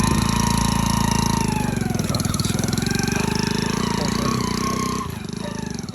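A motorcycle engine running steadily up close, a loud, even mechanical drone with a rapid pulse that eases slightly in level toward the end.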